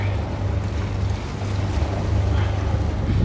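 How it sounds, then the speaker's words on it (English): A steady, loud low rumble of a helicopter passing overhead above the river in Williamsburg, Brooklyn, droning continuously with wind noise over the microphone. "That's what that loud thing is. There's a helicopter flying over the"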